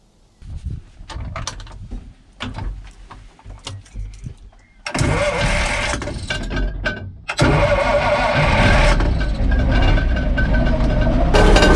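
A Swedish Stridsvagn m/37 tank engine is cranked and fires up, irregular clanks and knocks giving way to a loud, rough, steady engine roar that grows heavier after a few seconds.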